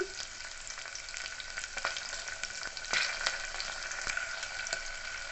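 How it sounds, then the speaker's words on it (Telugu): Dried red chillies fry in tempering oil in a pan, with a dense, steady sizzle close by and intermittent crackles and soft stirring clicks throughout. "ఇప్పుడైతే నేను ఎండుమిర్చి వేస్తున్నాను"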